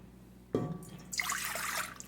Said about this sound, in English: I will combine the water